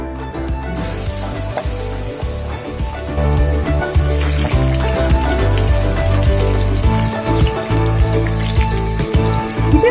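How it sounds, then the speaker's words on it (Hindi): Brinjal (eggplant) sizzles and crackles as it fries in a pan, a loud continuous hiss with stirring clatter that grows stronger partway through. "अभी मैं इसमें फ्राई कर लूंगी"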